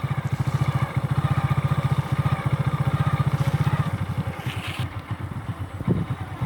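Motorcycle engine thumping in a steady rapid beat while the bike rolls along, close and fairly loud, the pulse loosening and slowing near the end as the throttle eases, with no talking.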